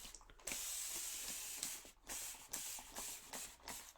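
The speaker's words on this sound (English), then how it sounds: "I'm going to spray this down." Repeated close hissing bursts of a spray bottle misting down a Dollar Tree Easter chick craft, several pumps in uneven rhythm with brief pauses between them.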